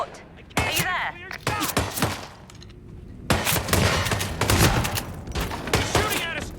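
Gunfire in the video game Hitman 3, a rapid burst of loud shots and impacts in quick succession, close and heavy, with voices talking over the fire.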